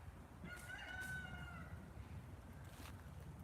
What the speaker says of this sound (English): Occasional roosters.